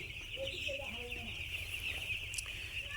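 Broiler chickens on a poultry farm cluck softly and sporadically over a constant electrical whine and low hum, with no clear talking.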